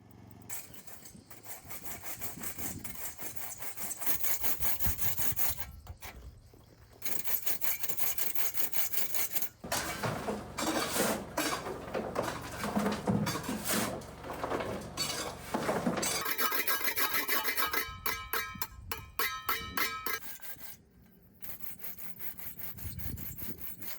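Old salvaged bricks are scraped clean in the shade behind a house, with steady, close rasping and gritty scraping strokes running almost continuously. Brief pauses and light clinks break it up, and no one speaks.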